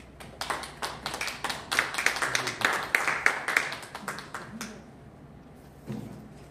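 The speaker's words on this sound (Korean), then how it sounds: "박수 한번" Clapping from a church gathering for a pastor's welcome, with dense claps over the first few seconds that then thin out and fade, followed by a brief murmur near the end.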